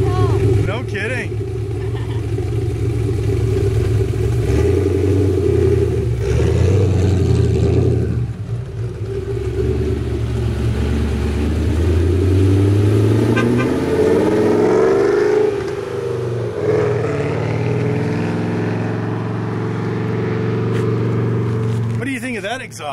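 Ford Mustang engine revving with a deep exhaust rumble, rising and falling through several surges, loud and close, while people talk over it.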